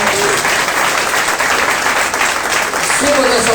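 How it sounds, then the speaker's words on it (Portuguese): Church congregation applauding together after a worship call, dense steady clapping filling the room for several seconds, loud and continuous with a faint hint of voices beneath. "Então dá um aplauso para Jesus"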